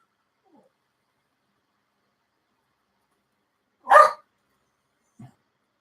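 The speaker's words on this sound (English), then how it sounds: "He's barking at me to let him out." A dog indoors gives a single sharp bark at close range amid near silence, followed by a faint, brief whine or yip a moment later.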